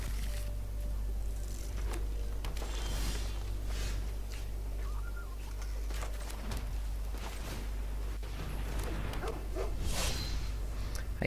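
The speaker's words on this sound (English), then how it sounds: "I hear it woofing." A dog woofs in the background, a few soft, muffled barks and whimpers scattered over a steady low hum, faint and somewhat distant.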